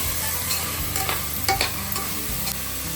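Carrot, capsicum, potato and cabbage for pav bhaji are stirred in a hot pan, a close, continuous sizzle broken by several scraping strokes of the spoon, with no talking.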